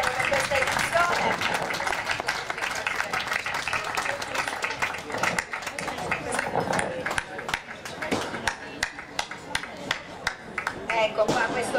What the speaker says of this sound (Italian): facciamo l'applauso finale agli asini ragusani